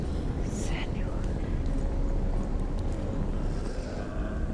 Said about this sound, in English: I heard the whisper of her mother's voice.